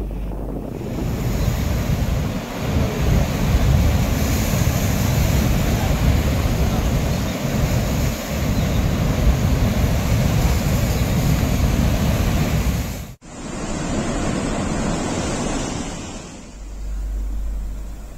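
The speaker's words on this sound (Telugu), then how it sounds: "సాగర్ 20 క్రస్ట్ గేట్లను 5 ఫీట్ల పైకెత్తి వరద నీటిని దిగువకు వదులుతున్నారు అధికారులు" Floodwater pours through twenty raised crest gates of the Nagarjuna Sagar dam, a loud, continuous broadband roar with wind buffeting the microphone. It breaks off briefly, then resumes slightly softer.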